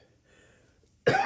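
A single sharp, loud cough bursts out close by after a moment of near silence and faint background murmur.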